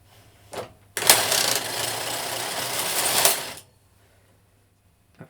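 A knitting machine carriage, threaded with black yarn, makes one pass to the left: a sharp click, then about two and a half seconds of loud, close, steady whirring and clattering that stops abruptly, followed by quiet and a faint click.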